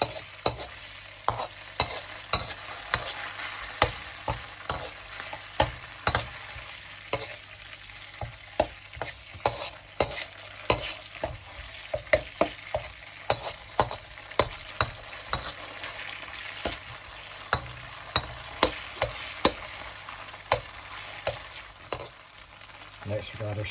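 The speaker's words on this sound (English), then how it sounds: "I just want to cook this through, just cook off the varnish." Marinated chicken pieces cook in a pan with a steady sizzle, punctuated throughout by frequent sharp taps and scrapes of a spoon stirring against the pan.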